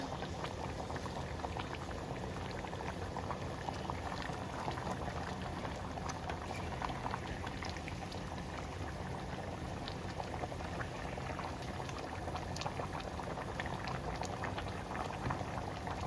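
Water boiling in a pot for Hungarian beef goulash, a continuous rolling bubble and hiss with a steady texture throughout, close but quiet, no talking.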